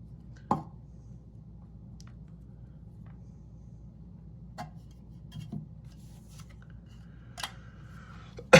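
Scissors cut cardboard packaging from a Kay Bee Toys trading card cube, heard as a few sharp, close snips and clicks spaced apart over a low, steady background hum.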